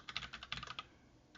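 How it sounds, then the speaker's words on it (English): Quick bursts of keyboard typing rattle close by, a dense flurry of clicks, a pause, then a few more keystrokes, no talking. "I'm trying to do all this fast, and then I screw up my typing."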